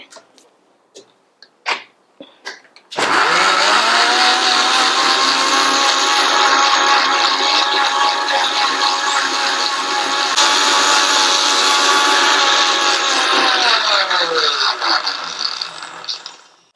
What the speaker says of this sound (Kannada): ಈ ಮಿಶ್ರಣನ ಮತ್ತೆ ನಾನು ಗ್ರೈಂಡರಲ್ಲಿ ಹಾಕಿ ಚೆನ್ನಾಗಿ ಪೇಸ್ಟ್ ಮಾಡ್ಕೊತಾ ಇದ್ದೀನಿ